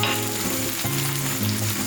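A minari and shrimp pancake fries in an oiled pan with a loud, close, continuous sizzle and crackle, briefly shifting as pieces of shrimp are set on top.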